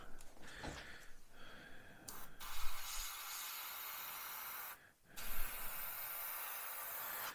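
An airbrush sprays paint in steady hissing bursts onto a masked 1/35 scale Spitfire Mk Vb model, pausing briefly before resuming, with a soft close-up airflow sound.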